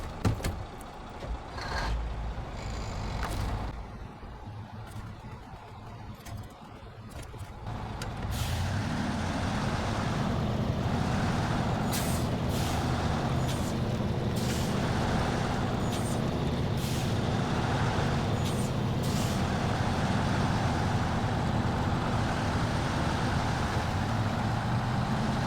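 A video game truck carrying an enormous fuel tank rumbles along with a steady, loud engine drone. The opening seconds are quieter and more irregular, with sharp hissing bursts that sound like air brakes.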